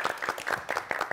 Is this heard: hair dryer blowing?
no